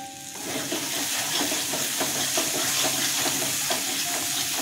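Soybeans and potatoes fry in a pan with salt and sugar, making a loud, continuous sizzle overlaid by a rapid, rhythmic series of scraping clicks as they are stirred.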